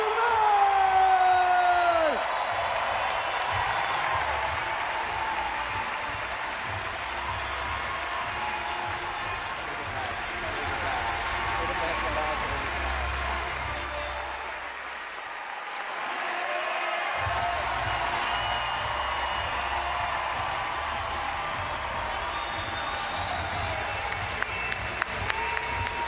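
A large arena crowd at the Alliant Energy Center applauds CrossFit athlete Tia Toomey at the 2021 CrossFit Games, sustained dense clapping and cheering that swells and dips, with an announcer talking over it.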